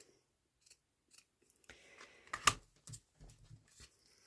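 Scissors snipping through lace in a few short, close cuts, crisp and quiet against near silence.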